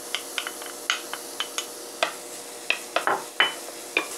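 Minced garlic stir-frying in a pan, heard as a faint sizzle under a series of sharp scraping and tapping strokes of a utensil against the pan, spaced irregularly and close by.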